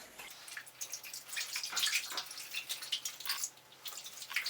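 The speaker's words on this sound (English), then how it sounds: "I filled up my sink with about 1 inch of water" Water in a sink filled about an inch deep sloshes and drips as wool clothes are swished and massaged by hand, a close, continuous splashing with uneven small bursts.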